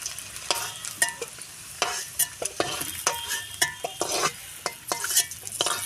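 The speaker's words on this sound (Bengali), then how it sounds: "এখন ডিমগুলো ভেজে নেব" Eggs frying with turmeric in oil in a home kitchen pan: a steady low sizzle broken by frequent scraping and stirring clicks of a spatula against the metal, close and fairly loud.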